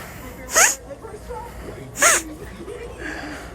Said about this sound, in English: I just sneeze a lot.